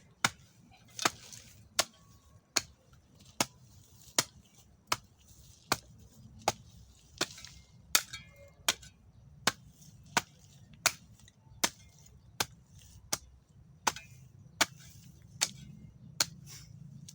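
Anti-slip hoe chopping into hard, weeded soil: a long run of sharp, evenly spaced strikes roughly every second, close and fairly quiet over a low background rumble.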